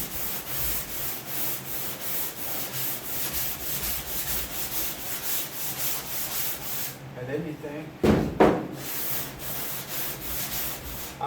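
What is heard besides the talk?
sanding car hood bodywork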